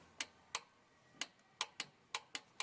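A torque wrench clicks repeatedly as diesel injectors on an Iveco Deutz Magirus 90 engine are tightened to 30 Nm; eight sharp, close metallic clicks come at irregular short intervals over quiet background.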